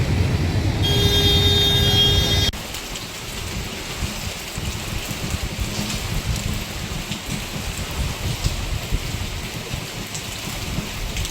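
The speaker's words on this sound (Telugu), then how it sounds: "మెదక్ జిల్లాలో భారీ నుంచి అతి భారీ వర్షాలు పడుతున్నాయి" Heavy to very heavy monsoon rain pours steadily in Medak district, Telangana, a dense continuous hiss, with a louder burst of noise in the opening seconds before settling into constant downpour with no voices.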